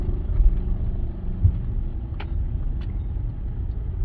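A car rumbles along a narrow back-village road in Vietnam, a low, steady engine drone close by with a couple of faint higher clicks or squeaks over it.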